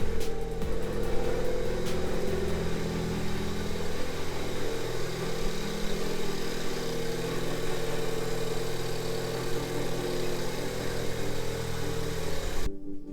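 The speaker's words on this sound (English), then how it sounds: "so I'll let the car warm up" A Ford Fiesta ST, rebuilt after a wreck and showing a check engine light, idles steadily while warming up, a loud continuous engine hum that holds even throughout before cutting off abruptly at the end.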